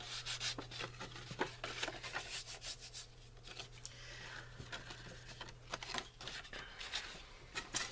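Folded card paper is burnished by hand in both directions, giving a soft, continuous rubbing and scraping with repeated close strokes and a steady low hum underneath.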